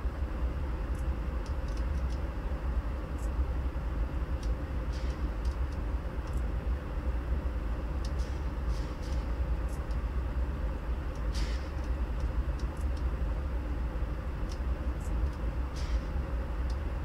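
Dash8-40C diesel locomotive in Train Simulator releasing its brakes and starting to roll, a steady low engine rumble with faint hissing bursts, continuous and fairly close.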